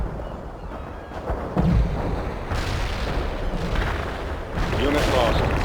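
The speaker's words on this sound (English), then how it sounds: "Heavy artillery barrage inbound." Heavy artillery barrage in the World in Conflict real-time strategy game: dense rolling booms and rumbling impacts pile up continuously over several seconds, loud and close, with game voice radio chatter mixed in.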